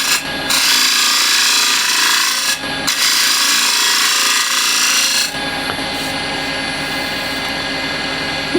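A wood lathe spins a bowl at high speed while a standard scraper cuts the inside, making a loud continuous whirring rasp that drops out briefly twice before shifting to a lighter, steadier cut.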